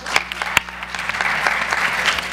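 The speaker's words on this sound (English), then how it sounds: "Clap." Audience applause fills a hall during a climate change debate, a burst of clapping from many hands spreading through the room, fairly loud and steady with scattered sharp claps, and no voices over it.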